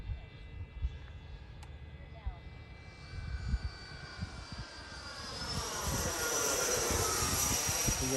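An E-flite F-16 Falcon 80mm electric RC ducted-fan jet circles around under a gray sky before landing, its whining turbine rising in pitch and loudness as it sweeps closer, steady and sustained with light wind noise.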